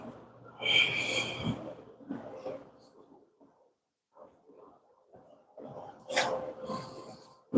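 Heavy, close breathing straight into a microphone while bending over, with loud huffs and snorty exhales in uneven bursts separated by quiet gaps.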